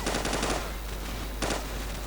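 Machine-gun fire in Call of Duty 4: Modern Warfare comes in two rapid, loud bursts separated by a short pause, with no talking over it.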